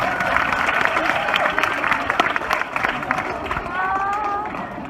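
Audience applause and crowd noise at Australia Zoo, a dense, continuous wash of clapping and murmuring voices that holds steady throughout at fairly close range.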